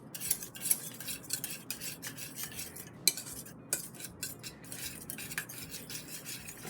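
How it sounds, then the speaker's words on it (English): A wire whisk stirs white vinegar into a homemade Big Mac-style sauce in a bowl, making quick, repeated metallic clicks and scrapes in an irregular rhythm, close and fairly quiet, with no talking. "Of course, give it a whisk."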